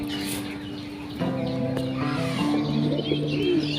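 A new male Kaldom pigeon coos close by in a cage, a few low sustained rolling calls over faint background noise.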